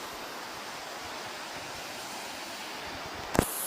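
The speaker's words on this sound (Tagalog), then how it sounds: "Ito po yung ilog yan." A river flowing beside a rural property, a steady broadband rush of water at a low, even level throughout, with a brief sharp knock near the end.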